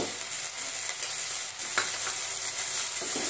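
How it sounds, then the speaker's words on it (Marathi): Ginger-garlic paste and green chillies fry in a pan with a steady, bright sizzle and the occasional scrape of stirring, close up and with no voices. "त्यामध्येच आपण आलं लसूण पेस्ट 1 चमचा टाकून घेऊ।"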